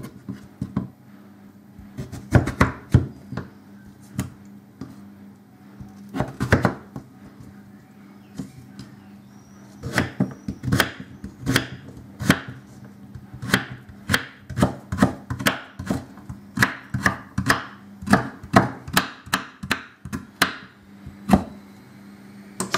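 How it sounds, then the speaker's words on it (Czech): A knife chops parsley on a wooden board, sharp crisp knocks in quick irregular bursts that speed into a fast steady rhythm, close and loud, with no talking. "Teď si nakrájíme petrželku."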